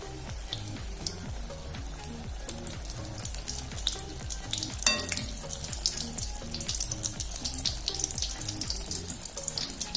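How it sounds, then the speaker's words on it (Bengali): Battered eggplant fritters (beguni) fry one at a time in hot oil in a small wok, giving a steady close bubbling sizzle with fine crackles throughout, no talk. "এই যে চুবিয়ে এখন তেলের ভিতরে, গরম তেলের ভিতরে দিয়ে দেব।"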